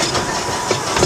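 The Dry Gulch Railroad, a miniature amusement park train at Hershey Park, rolls by with a loud, close rumble and a brief rattle of wheels on the track.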